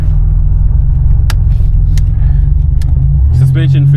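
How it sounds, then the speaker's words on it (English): A 1986 Buick Grand National with a turbocharged engine driving on a cold day, its steady engine rumble swelling near the end as the turbo spools up, with a rising whistle-like tone over the low drone. "Nice cold day, so you can hear the turbo spool up."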